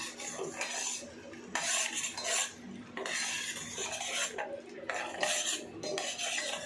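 Spoon stirring sugar and water melting into caramel in a pan, a steady scraping and clinking in bursts with short pauses between strokes, close and moderately quiet.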